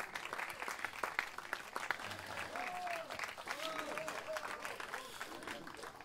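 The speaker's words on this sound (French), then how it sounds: "Oui, ça, vous pouvez applaudir le prix." Audience applause at an award ceremony for economics prizes, steady dense clapping throughout with crowd noise and a few voices mixed in.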